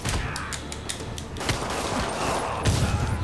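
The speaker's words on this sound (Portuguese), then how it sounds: "E o tiroteio estancando." Rapid bursts of gunfire in the Spider-Man video game, a loud sustained barrage of repeated shots over dense mechanical clatter and game noise, with no talking.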